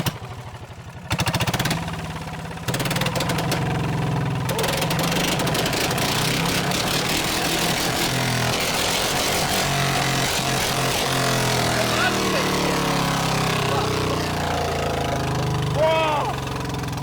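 A pull-started engine on a Thai rural F1-style racing car with a hand-pulled throttle bursts into life after a second and runs steadily and loudly, a rough, continuous drone that lasts nearly the whole stretch.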